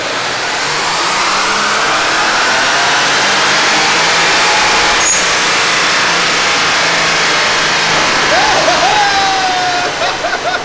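Turbocharged budget car running on a dyno: loud, sustained engine roar filling the whole stretch, with a rising whine near the end.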